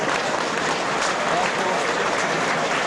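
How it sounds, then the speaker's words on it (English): A Halifax crowd at a 1985–86 rugby league match against Warrington gives player Ken Kelly a generous round of applause as he leaves the field, a steady, dense clapping that fills the whole stretch. "Ken Kelly getting a generous round of applause from the Halifax crowd"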